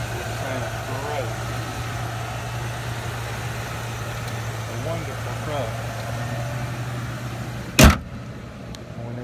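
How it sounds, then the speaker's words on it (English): A Ford F350 dually pickup with a Triton V10 engine and 67K miles idles with a low, steady hum while a person talks over it, and a sharp click or knock comes near the end. "It's got the Triton V10. It sounds great."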